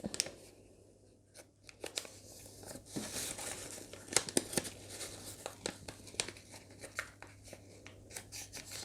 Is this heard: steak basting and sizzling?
no